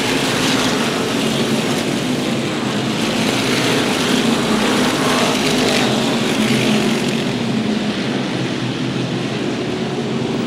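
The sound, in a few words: SK Modified race cars racing at Waterford Speedbowl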